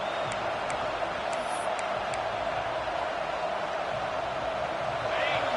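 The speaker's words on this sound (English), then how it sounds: "This crowd bringing the energy and noise early." A steady, distant roar of a large football stadium crowd at a Notre Dame versus Alabama game fills the air, unbroken and even throughout.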